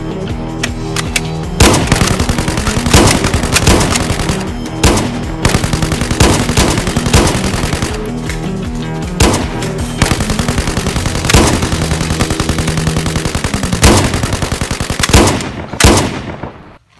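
Rapid bursts of gunfire crackle loudly and almost without pause, dense volleys of shots repeating in quick succession throughout, with no speech.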